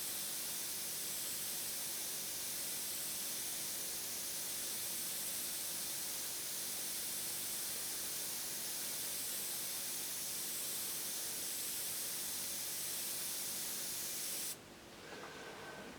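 An airbrush sprays ink in a steady, soft, even hiss that runs unbroken for about fifteen seconds, then drops abruptly to a quieter background.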